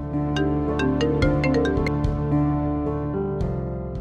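A mobile phone rings with a steady melodic ringtone that plays a repeating tune, loud and continuous with no voices over it.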